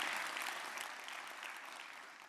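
An audience at a travel bloggers' event applauds steadily, a dense wash of clapping that fades slightly toward the end.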